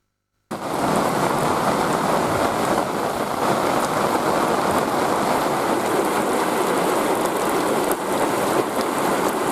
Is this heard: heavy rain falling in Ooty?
yes